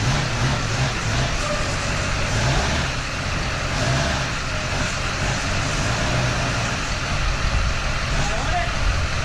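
A half-million-mile Duramax diesel truck creeps onto a Dynojet dyno, its low engine rumble steady and close beneath people talking and guiding the driver.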